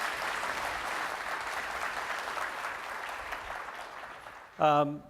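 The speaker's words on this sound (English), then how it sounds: "So I just want to, again, applaud Carl." Steady audience applause at a conference awards session fills the room for over four seconds, then fades as a voice begins speaking at the end.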